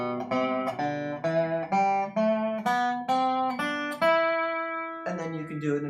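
A dobro played with a steel runs through a quicker picking exercise: a close, twangy series of plucked notes stepping and sliding in pitch, ending on one longer sustained tone before a final pair of notes.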